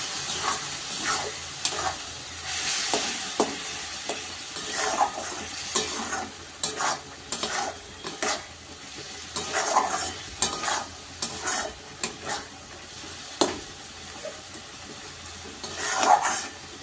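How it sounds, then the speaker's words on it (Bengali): Spice paste frying in hot oil for chicken curry, with a steady sizzle and repeated scraping strokes of a spoon or spatula stirring in the pan, close and loud with no talk. "দিয়ে মশলাটা কষে নিয়ে একটু মাংসটা দিয়ে দেবো।"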